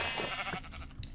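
A sheep bleats in Minecraft, a short nasal call heard close over a steady background of game ambience, with no talking.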